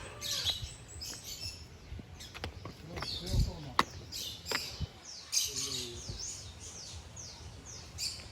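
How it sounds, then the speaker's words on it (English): Birds of many species chirp and tweet inside a bird feeding dome at a garden resort, scattered bright calls of varying loudness over several seconds, with faint voices and a few knocks in the background. "Get up and personal with over 20 species of birds."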